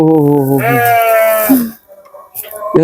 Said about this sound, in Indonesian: Di kandang kambing.